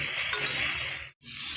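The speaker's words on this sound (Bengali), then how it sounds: "তো এবার খুব ভালোভাবে মশলার সাথে মিশিয়ে নিচ্ছি।" Boiled taro curry stirred with spices in a hot pan, a steady close sizzling and scraping that runs on, breaks off for a moment, then resumes.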